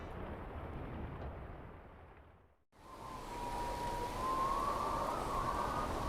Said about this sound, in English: Storm booms overhead.